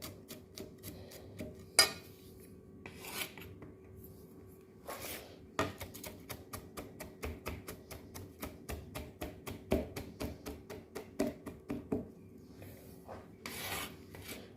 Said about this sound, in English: Put your garlic together and then just finely slice